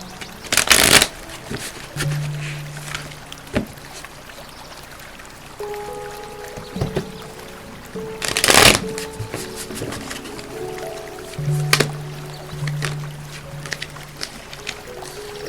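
Tarot cards shuffled in a few short, sharp riffling bursts separated by quieter handling sounds, close up, with faint background tones between the shuffles.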